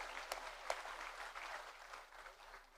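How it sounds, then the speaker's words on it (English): A conference audience applauds a panel, a faint, brief burst of clapping from a crowd that tapers off. "Big round of applause."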